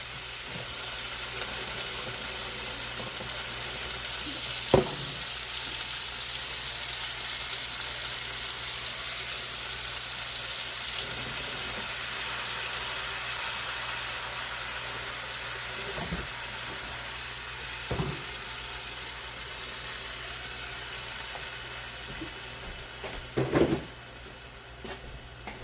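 Onions and peppers for a pork stew sizzle steadily in a hot pan, a constant broadband hiss with a few sharp clicks and scrapes of stirring scattered throughout, no talking.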